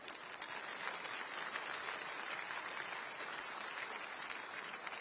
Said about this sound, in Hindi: एक बार जोरदार तालियां भाई साहब के लिए।